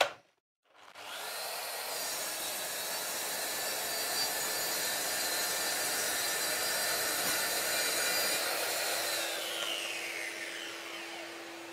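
A Mafell MT55 plunge saw spins up and runs through a cut, holding a steady, loud whine for about ten seconds before winding down with a lingering tone.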